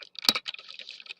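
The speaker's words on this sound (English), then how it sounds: "I'm going to type in my vex" Keys clatter on a computer keyboard as code is entered, a close, quick patter of soft clicks with one sharper tap near the start.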